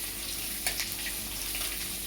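Chili, cumin, mustard seeds and curry leaves sautéing in hot oil for sabudana khichdi, a steady, soft sizzle and crackle with no talking.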